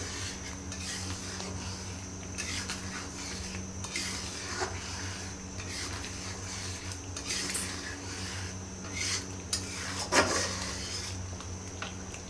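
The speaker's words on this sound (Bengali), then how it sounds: "এখন এই মিশ্রণগুলো একসঙ্গে নেড়ে চেড়ে আর একটু কষিয়ে নেব।" Spoon scraping and stirring through a spice mixture with whisked sour yogurt in a pot for Bangladeshi chicken curry, a steady low sizzle under scattered metallic clinks and scrapes, close and moderately loud.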